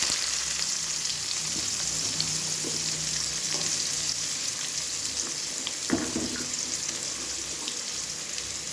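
Onions added to hot oil with fennel seeds and cinnamon for mushroom gravy: a continuous bright frying sizzle with occasional stirring scrapes and clinks, close and steady, with no talking.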